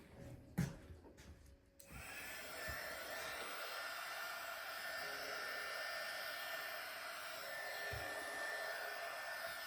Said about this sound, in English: So I'm going to show you the heat gun process to get the sticker off.